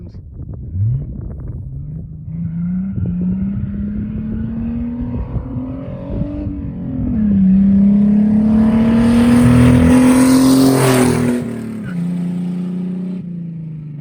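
A Chevy Luv truck engine revs hard during a burnout, a loud rising growl that swells to a roaring peak with tire hiss, then eases back to a rough idle.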